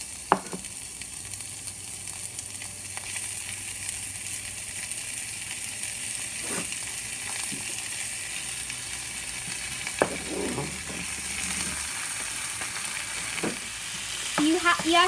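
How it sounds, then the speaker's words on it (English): Ground meat browning in a pan, a steady hiss of frying underneath occasional sharp clicks and scrapes of a utensil breaking it up, growing a little louder toward the end, no voices. "next you're going to put in your meat, and you have to cook this until it's brown"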